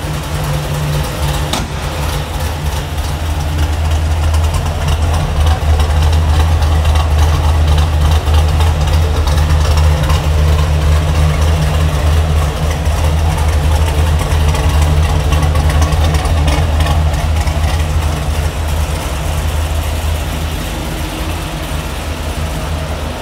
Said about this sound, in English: Quiet running engine, everything runs great.